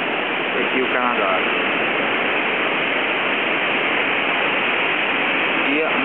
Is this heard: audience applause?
no